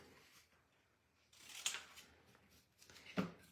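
Paper trimmed for a handmade card using a baseball-themed paper pack, two crisp, close cutting swishes about a second and a half apart over faint background rustling.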